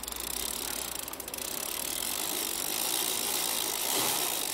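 Freewheel ratchet clicking from a Cannondale 29er mountain bike drivetrain with a Truvativ crank, SRAM X7 front and XT rear, a steady fast clicking that runs through the whole moment at close range.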